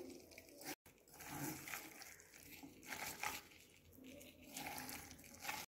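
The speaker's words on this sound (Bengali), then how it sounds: "এবার আমি এটা মিক্স করব, জল একটু লাগবে" Spring onion fritter batter with whole carom seeds being hand-mixed with a little water, giving soft wet squishing and squelching in uneven bursts with short quiet gaps, close and fairly quiet.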